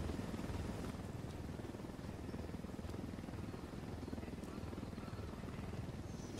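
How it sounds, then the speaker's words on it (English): Helicopter in the Ghost Recon Wildlands video game, a steady rotor drone and engine rumble filling the whole stretch, with a voice talking over it. "wait for a helicopter to leave the area."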